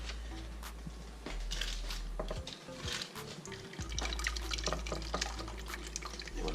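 Liquid from roasted barbecue chicken is poured off into a vessel, a steady trickling and splashing stream with dripping, close and continuous with a brief break midway.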